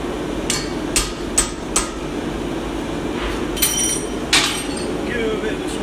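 Hammer blows on a metal punch while blacksmithing a horse bottle opener: a handful of sharp, ringing clinks in irregular succession over a steady workshop hum.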